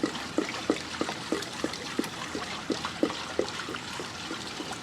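An RV waste tank draining down a hole, liquid splashing and trickling with a steady run of small gurgling pulses, close and continuous throughout.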